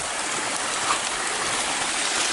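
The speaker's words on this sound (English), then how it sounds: "Look at this creek that we're following up" A creek whose water has stained the rocks with minerals rushes and babbles in a steady, close wash with no talk over it.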